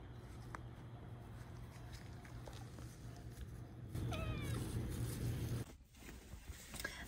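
A cat meows near a 1978 Burro camper trailer, short mewing calls partway through over a steady low hum and rustling outdoor background.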